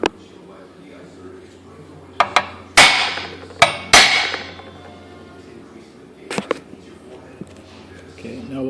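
A hammer strikes a center punch on a steel quarter-inch plate, giving several sharp metallic taps, a pair close together and then a few more spaced out, over a quiet background.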